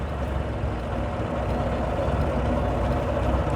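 A 1932 Austin Heavy 12/4 Windsor engine idles with a steady, low, rumbling drone that holds an even level from start to finish, close by, with no talk over it.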